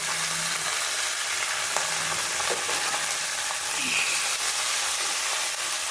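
Dried chillies, lentils, garlic and onion fry in a pan for a tamarind curry, making a dense, continuous close sizzle with faint stirring taps throughout.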